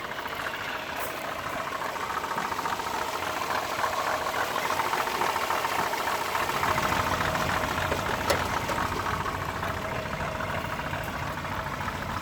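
Riley One Point Five classic car engine idling steadily on the hand throttle, a continuous mid-pitched rumble with faint rattling and vibration, recorded close with no talking.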